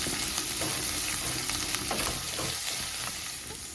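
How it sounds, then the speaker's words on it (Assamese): Onions fry in hot oil in a pan, giving a continuous loud sizzle and crackle with small bursts of spitting throughout and no talking. "মই এতিয়া তেল গৰম কৰি ল'লোঁ তাৰপিছত পিঁয়াজখিনি দিলোঁ আৰু আগৰ প্ৰচেছ নিচিনাকৈ এতিয়া মই পিঁয়াজখিনিও ৰঙা কৰি ভাজি ল'ম"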